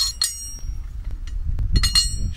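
.22 rifle rounds strike small steel gong targets, giving several sharp metallic clinks and pings at irregular intervals over a low rumble, fairly close.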